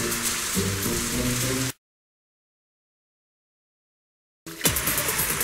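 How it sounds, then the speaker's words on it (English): Steady pouring rain hisses across the whole spectrum, cutting off abruptly into silence for a few seconds before the downpour resumes. "it's pouring rain"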